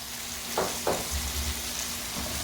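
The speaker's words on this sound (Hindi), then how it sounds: "अब हम इसको 2 मिनट के लिए अच्छे से फ्राई कर लेंगे।" Bitter gourd fries in a pan with fenugreek seeds, nigella seeds and spices, a steady soft sizzle with a couple of brief stirring scrapes near the start, close and moderately quiet, no talking.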